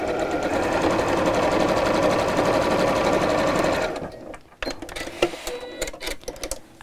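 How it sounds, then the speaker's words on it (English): A sewing machine runs a steady, dense stitch along the edge of Decovil interfacing for a fabric storage box, whirring continuously for about four seconds before stopping, followed by quieter handling clicks and rustles. "So let's just sew straight along again the edge of the Decovil."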